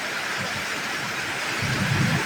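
Steady, dense hiss of heavy rain pouring down in Dasmariñas City, Cavite, Philippines, with low rumbling underneath, continuous and fairly loud with no voices.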